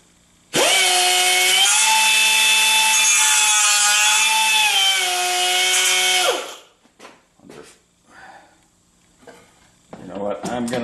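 Power tool grinding a metal firewall cover plate for a 1976 Corvette restomod, a loud steady whine for about six seconds before winding down, followed by faint clatter and handling noises.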